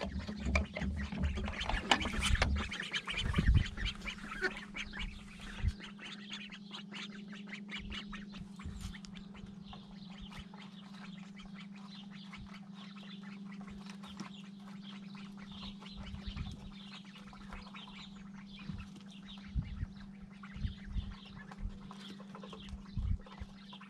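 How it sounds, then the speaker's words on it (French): Indian runner ducks quack nearby in a garden in irregular bursts, louder and busier at first and then thinning into scattered calls over a low, steady hum. "On a des canards coureurs indiens qu'on met dans le jardin"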